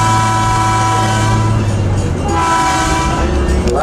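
A scenic passenger train on the Hoosac Valley line in North Adams, Massachusetts, sounds its horn for crossings in a loud, sustained multi-tone blast that pauses briefly and resumes over the rumble of the moving train.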